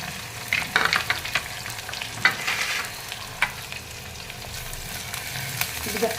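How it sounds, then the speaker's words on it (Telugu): Onion and curry leaves sizzle in hot oil with mustard seeds, a crackling fry with sharp pops and stirring scrapes up close, no talking. "ఆవాలు వేగాక ఆనియను కరివేపాకు"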